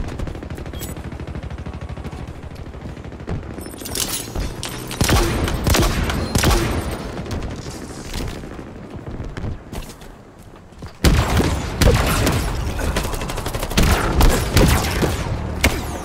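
Sustained weapon fire from the Sentinel Beam in Halo, a loud continuous stream of crackling bursts with booming impacts, cutting out briefly before surging back in louder toward the end.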